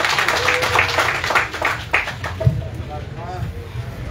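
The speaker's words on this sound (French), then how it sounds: "Je vous demande de vous applaudir vous-même d'être dans l'arc-en-ciel." Audience at a French MRC political party meeting applauding, steady clapping that thins out partway, with a voice speaking over it near the end.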